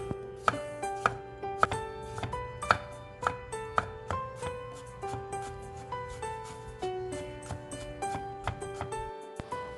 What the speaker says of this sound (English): Mince 3 pickles.